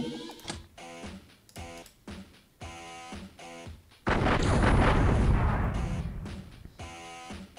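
Bursts of gunfire in the strategy game X-Piratez, choppy repeated shot sequences followed by a long loud roaring blast that slowly fades, then more clipped firing.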